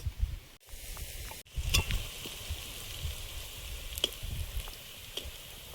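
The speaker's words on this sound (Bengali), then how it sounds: "মোচার চপ ভাজা হয়েছে, তুলে নিচ্ছি।" Banana flower chops sizzle and crackle quietly in hot oil in a home kitchen, with a steady fizzing hiss and a few louder pops as pieces are lifted out.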